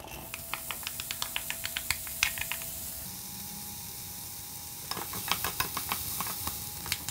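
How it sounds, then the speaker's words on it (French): Chopped onions hitting hot olive oil in a pan, giving a steady close sizzle with a run of quick stirring taps and clicks, alone without talk. "Et une fois que celle-ci est chaude, nous versons nos oignons."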